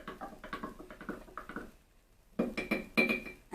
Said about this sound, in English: I'm going to just give them a little stir, just to make sure that kefir is not sitting there in a big lump in the bottom